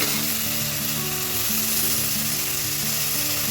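Homegrown rooftop manathakkali keerai (black nightshade greens), mixed with amaranth stem greens, sizzles steadily in a pan, a dense continuous frying hiss with a low bubbling undertone throughout, close and fairly loud, no talking.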